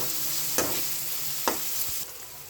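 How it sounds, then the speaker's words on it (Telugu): Garlic and tomato fry in hot oil in a pan, a steady close sizzle broken by a few sharp stirring scrapes of a utensil, with no voices. "వెల్లుల్లి వేసి వీటిని ఆయిల్లో వేసి ఫ్రై చేయాలన్నమాట."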